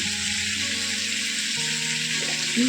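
Whole tomatoes, garlic and onion frying in a pan make a continuous bright sizzle, with a low steady hum and a faint rising tone near the end.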